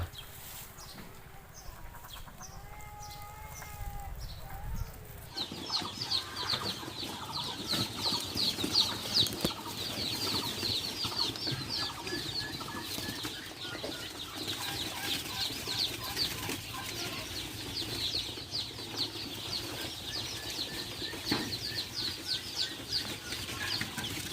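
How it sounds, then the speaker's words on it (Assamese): Beijing-breed ducks at a duck farm in Nagaon, Assam, give a dense chorus of quacking and calls that starts abruptly and carries on steadily, with some wing flapping and other farm birds mixed in. "এইফালে যেটো হাঁহ দেখা পাই আছে সেইটো হ'ল বেজিং জাতৰ হাঁহ।"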